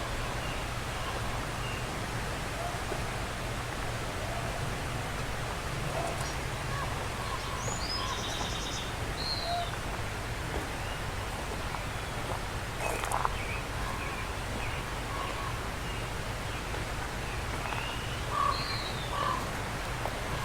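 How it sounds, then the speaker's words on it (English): Scattered bird chirps and calls ring out in a forest in Sitka, Alaska, faint and intermittent over a steady low background hum, with a few brief louder notes here and there. "Just the sounds of the nature wildlife is so beautiful."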